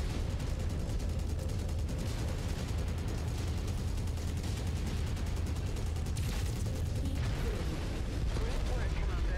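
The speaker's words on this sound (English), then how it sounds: "We'll just go in here with the machine guns for a second." Machine guns fire in MechWarrior 5 combat, a dense, loud, continuous rattling barrage with heavy mechanical rumble throughout, with brief shifts in texture partway through.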